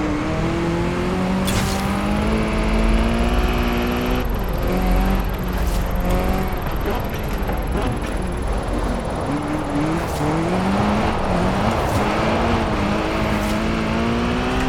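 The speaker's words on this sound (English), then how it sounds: "Little Honda, man, sounds mad." A small Honda car in the Forza Horizon 4 racing game revs hard, its loud engine rising and falling through repeated gear changes, with occasional tire squeal across a long continuous run.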